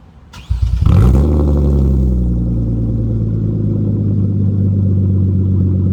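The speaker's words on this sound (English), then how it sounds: "we're gonna take a listen to the exhaust" A 2013 Hyundai Genesis Coupe 3.8 R-Spec engine cranks and starts, then settles into a loud, steady idle rumble through the exhaust, close up and continuous.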